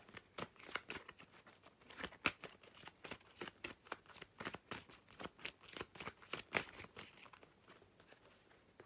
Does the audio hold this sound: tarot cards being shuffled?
yes